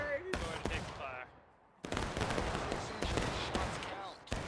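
Musket volleys in the Civil War game War of Rights, with sharp irregular gunshots, some close and loud, others scattered, under voices talking.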